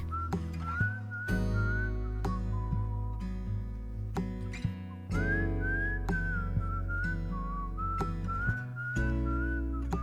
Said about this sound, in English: Ooh, the whistle track.